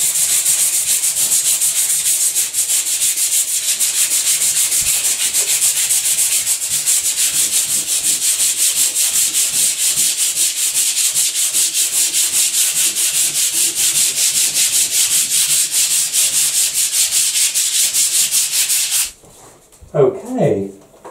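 Sandpaper is rubbed back and forth over flaking paint on a ceiling in a loud, continuous scratchy rasp that runs for many seconds before stopping, followed by a few softer handling noises.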